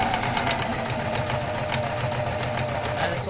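Sewing machine running while stitching fabric, a steady mechanical whir with a fast regular needle clatter, close and continuous throughout.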